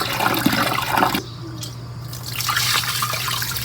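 Water runs from a tap while rice is rinsed in a household kitchen, a steady broadband rush that stops briefly in the middle and then resumes with faint dripping and splashing.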